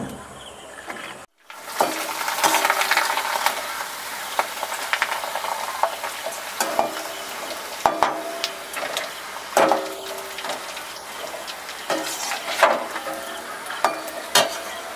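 Papad frying in oil over a village cooking fire, a continuous close sizzle punctuated by repeated scraping and tapping of a utensil through the whole stretch, no talking.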